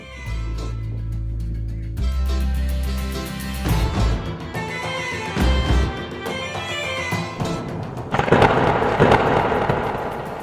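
A thunder rumble builds near the end of a Marathi comic love story, a broad, loud roll of noise that follows steady background music, with no talking.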